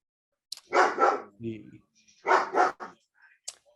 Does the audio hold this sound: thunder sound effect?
no